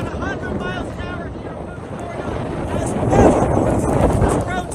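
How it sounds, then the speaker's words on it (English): Hurricane Ian wind gusts near 100 mph roar and buffet constantly, a loud rushing blast swelling stronger toward the end, with a voice speaking over it. "we're getting wind gusts about 100 miles an hour"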